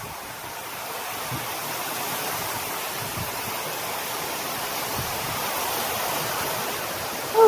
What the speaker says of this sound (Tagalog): Tapos lumalakas na rin ng alon.